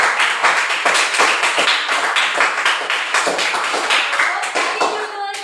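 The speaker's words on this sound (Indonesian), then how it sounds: "Tepuk tangan dulu untuk" A class claps for a group's school presentation, a dense burst of hand clapping that runs close and loud for about five seconds before thinning out at the end.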